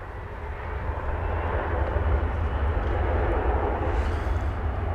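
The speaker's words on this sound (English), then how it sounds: "there's the Qantas Airbus A380, now a daily feature here at" A Qantas Airbus A380 airliner at DFW Airport, a broad, steady jet engine roar that rises slightly and holds, heard from a distance with no talk.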